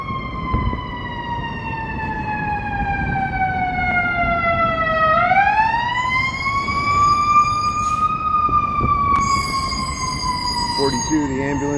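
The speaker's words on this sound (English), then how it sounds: "Here comes some sirens." Fire truck sirens wail along a downtown Chicago street in the Loop, a loud continuous rising and falling tone that sweeps past and shifts pitch as the trucks go by, with traffic noise underneath.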